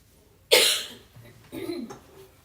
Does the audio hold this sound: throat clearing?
yes